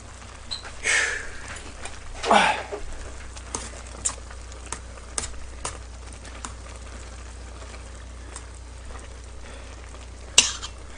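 Squid and onion stir-fried in a pan for a spicy seafood ramen: a soft continuous sizzle with occasional louder scraping bursts and scattered spatula taps.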